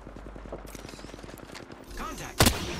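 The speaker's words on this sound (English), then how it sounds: "Contact. Enemy firing." Enemy gunfire in the battle royale game Apex Legends, a rapid regular burst of automatic shots over about two seconds, followed by a louder sharp blast near the end.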